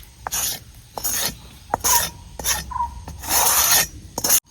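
Fresh turmeric pickle with asafoetida is stirred in a pot over a village wood-fired stove: several short, close scraping and rasping strokes come in uneven bursts with brief pauses between them.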